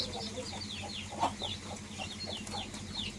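A mother hen with eleven chicks, repeated high chick peeps and low hen clucks in a farmyard during rain, continuous and fairly close with a low background rumble.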